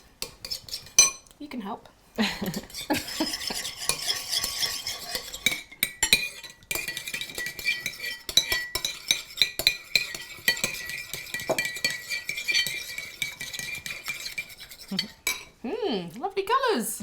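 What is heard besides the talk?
stirring and mixing coloured frozen yogurt together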